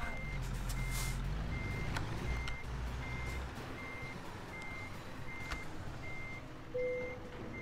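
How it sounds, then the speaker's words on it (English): A truck in American Truck Simulator reverses with a steady, evenly spaced backup beeper sounding over a low engine rumble, moderately loud and without speech. "Is that a normal truck sound?"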